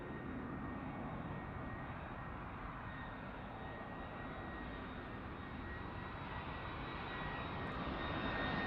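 An easyJet Airbus A320 airliner on its landing approach at Bristol Airport, its engines a steady broadband roar that holds loud and constant throughout, swelling slightly toward the end.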